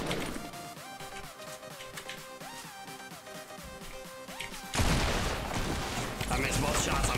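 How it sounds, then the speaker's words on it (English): Gunshots in a video game ring out as sharp bursts over a steady game soundtrack, with louder blasts and a broad wash of noise in the final seconds while players talk. "I missed both shots"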